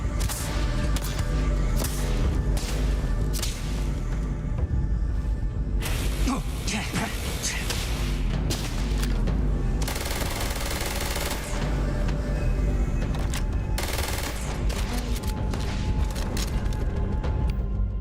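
Automated turrets firing in the sci-fi game Starfield, rapid sustained bursts of gunfire with heavy booms and mechanical rattling, nearly continuous and loud through the whole stretch.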